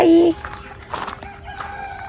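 A chicken gives a short, loud call up close on a farmstay in Phatthalung, Thailand, followed by soft clucking and background chatter of people nearby.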